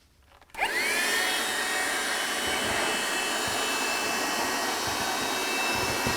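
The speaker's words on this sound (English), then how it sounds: "I've cleaned out this little vacuum cleaner" A small vacuum cleaner starts up after a brief quiet moment, then runs with a steady, loud whirring whine close by, cleaning model railway scenery.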